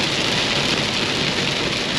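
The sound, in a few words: heavy rain falling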